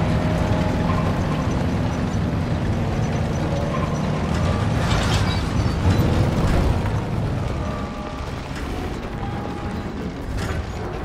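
A heavy German Tiger tank in Call of Duty WWII rumbles and grinds with dense mechanical clanking and track rattle, booming explosions breaking in along the way, loud and continuous throughout.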